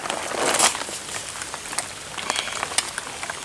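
Steady rain falling at night on a muddy shrimp pond, a dense hiss of drops with scattered sharper patters, moderately loud and close, with no talking.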